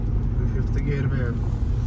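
A Hyundai i20 petrol hatchback with a 1.2-litre engine cruises in fifth gear at about 50 km/h, its steady low engine drone and road rumble continuous throughout while someone talks over it from inside the cabin.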